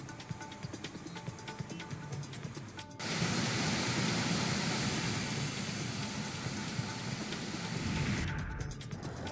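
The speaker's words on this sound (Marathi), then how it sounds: "पावसाने शिव नदीला आलेल्या पुरामुळे 150 ते 200 फूट उंचावरून कोसळणाऱ्या या धबधब्याचं रौद्र रूप पाहायला मिळत आहे" Bhivtas waterfall near Nashik in flood after heavy rain, the swollen Shiv river plunging 150 to 200 feet: a loud, steady broadband roar of falling water that surges in abruptly partway through and holds continuously before fading at the end.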